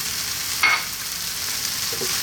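Cooked rice stirred into sizzling black bean and vegetable burrito filling in a pan, a steady close hiss with a brief scrape of the spoon early on and a soft knock near the end.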